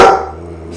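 A single loud, close dog bark bursts out and quickly fades, leaving a low steady hum behind it.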